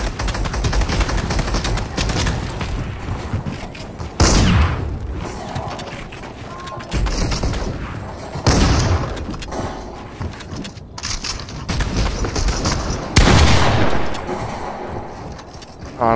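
Fortnite gameplay with bursts of video game gunfire, several sharp shots and rapid volleys spread across the stretch, loud and close over a busy background of game noise.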